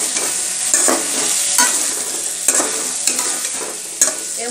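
Pointed gourd fried with spices in a pan, stirred with a spatula: steady loud sizzling with regular scraping stirs about once a second, no voices.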